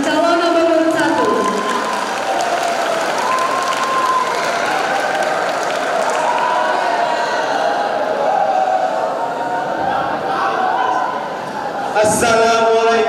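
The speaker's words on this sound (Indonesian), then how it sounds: "Kita beri tepuk tangan yang meriah untuk pasangan calon nomor urut 1." An audience at a school student council debate claps and cheers for the candidates. The applause is sustained and fairly loud, and a voice speaks over it before a brief louder burst near the end.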